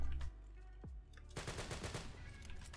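Gunfire in the Roblox shooter Arsenal during a one-on-one match: a dense rapid burst of automatic shots follows a short lull after an earlier sound, loud and close, with no talking.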